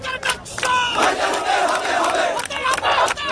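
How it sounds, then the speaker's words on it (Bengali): Student crowd chanting protest slogans on the Dhaka University campus, a dense, loud mass of voices shouting in rhythmic waves with no pauses. "মিছিল আর স্লোগানে প্রকম্পিত ঢাবির ক্যাম্পাস।"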